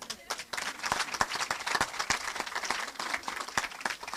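A church congregation at a youth night vigil applauds steadily, dense rapid clapping filling the space with crowd noise and voices mixed in throughout.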